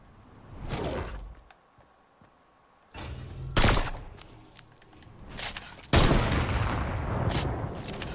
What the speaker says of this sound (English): I'm just firing shots so then over here.